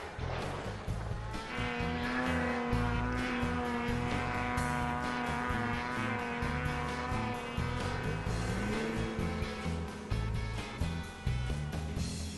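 Racing vehicles with tuned engines in snow roar steadily and loudly throughout, with layered engine tones rising and falling as machines rev and pass, and no talk.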